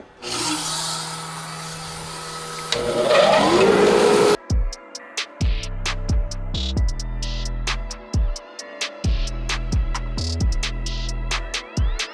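An Onefinity Journeyman CNC router spinning near 13,000 RPM carves a 3D eagle into curly maple, a dense grinding roar at first, then breaking into repeated short whining bursts separated by brief pauses.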